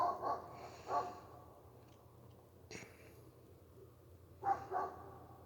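Barking from neighbours' dogs at a Great Pyrenees breeding business: a few spaced barks, moderately distant, with quiet outdoor ambience between them.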